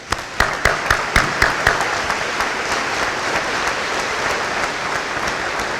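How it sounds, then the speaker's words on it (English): An audience at a 2017 technical college graduation ceremony applauds the graduates, with a few sharp claps leading into sustained, dense clapping that fills the hall steadily. "we give you, the graduates, a warm round of applause for their accomplishment"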